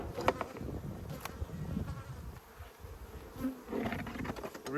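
Honeybees in a re-queened apiary hive droning during an inspection after smoking, a steady soft buzz with scattered louder passes of individual bees close by.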